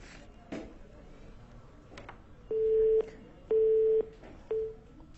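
A telephone line plays a flat electronic tone after an unanswered call, sounding in three short evenly spaced beeps, the last one shorter, with faint clicks between them.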